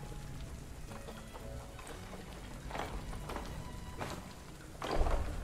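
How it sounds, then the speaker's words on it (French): Steady rain ambience in the Planet Zoo park-building game, a continuous wash of rainfall with a few louder spattering bursts and patter throughout, moderately loud with no talk over it. "Ah, puis on entend la pluie à fond."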